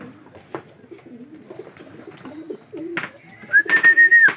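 A racing pigeon arrives at the loft, with soft coos and rustling up close, followed near the end by a sharp, loud series of whistled tones.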